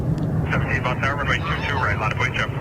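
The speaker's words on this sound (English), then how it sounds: "Oh, Korean Dreamliner, inbound." A Korean Air Boeing Dreamliner inbound to Logan Airport makes a steady, broad engine roar that runs throughout beneath a person talking.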